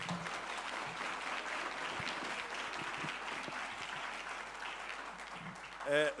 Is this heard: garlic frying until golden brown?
no